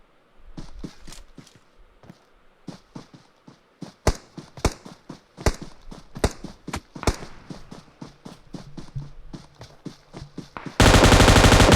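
Gunfire in a battle royale game: rapid bursts of sharp shots and scattered single cracks, loud and close, ending in a brief harsh blast of noise.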